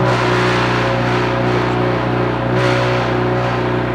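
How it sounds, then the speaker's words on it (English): A 2022 Subaru WRX idles through a cold start, its loud exhaust holding a steady, throbbing drone close by with a slight swell partway through, no talk over it. "So it's kind of loud with the cold start right now."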